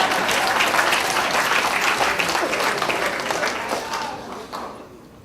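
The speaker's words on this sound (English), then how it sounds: "Y'all can clap, that's all right." A political party program audience claps steadily and fairly loudly, the dense applause holding for several seconds before thinning and fading toward the end.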